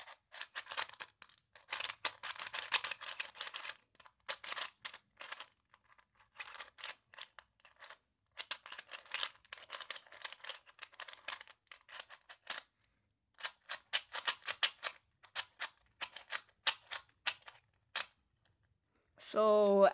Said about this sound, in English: the turning locks up a lot because of the cheap plastic and cheap hardware